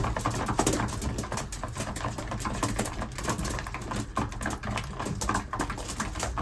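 Long-distance racing pigeons inside their loft, nine birds in all, make a dense, continuous patter of scratching, fluttering and pecking close by, with no talk.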